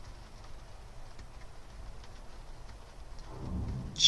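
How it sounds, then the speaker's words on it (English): Rain starting in Prison Architect, a soft steady patter with faint low rumbles like distant thunder, quiet throughout and swelling slightly near the end. "It's just started to rain here."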